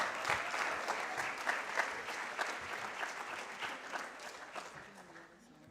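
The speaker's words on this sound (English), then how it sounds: "Let's give her a round of applause." Audience applause at a youth leadership symposium, a dense wash of steady clapping that gradually fades toward the end, with some voices mixed in.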